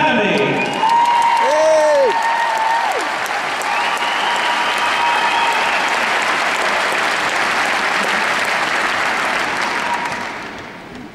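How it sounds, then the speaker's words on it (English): Audience at a school performance evening gives a warm round of applause, loud sustained clapping that follows a spoken introduction and a few cheers, then fades toward the end. "Please give a warm round of applause."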